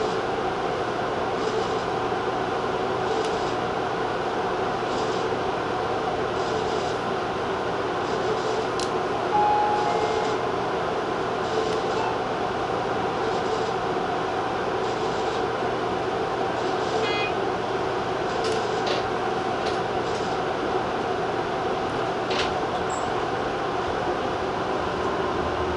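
A Tobu Railway TJ Liner train runs on the Tojo Main Line toward Ikebukuro. A steady rumble of the running train carries on throughout, with faint rhythmic clicks and a few brief higher squeals, recorded from the cab.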